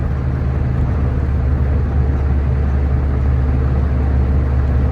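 A 1954 Citroen Traction Avant Big 15 cruises along a road, its engine and tyre roar forming a steady, continuous rumble heard from inside the car with no talk.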